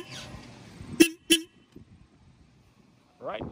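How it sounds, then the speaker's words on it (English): Two short, loud horn toots from a Royal Enfield Himalayan motorcycle sound close together, with someone talking briefly before and after. "That's the horn right there."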